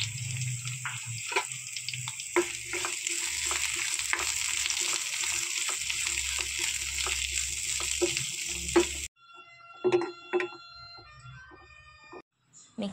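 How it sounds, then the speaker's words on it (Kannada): Sliced onion and curry leaves fry in a pan for a drumstick sambar, giving a steady close sizzle with scattered stirring clicks before it cuts off into quieter kitchen sounds. "ಸ್ಲೈಸ್ ಮಾಡಿಟ್ಟುಕೊಂಡಿರುವಂಥ ಈರುಳ್ಳಿ, ಕರಿಬೇವನ್ನು ಹಾಕಿ ಚೆನ್ನಾಗಿ ಫ್ರೈ ಮಾಡಿಕೊಳ್ಳೋಣ"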